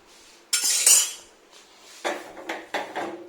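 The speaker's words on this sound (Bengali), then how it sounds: "যে গ্যাসটা এখন ওভেনটা নামাচ্ছি খালি করছি" A gas oven is lifted down and emptied in a home kitchen, giving a few clanks and metallic clatters: one long rattle, then several shorter knocks close by.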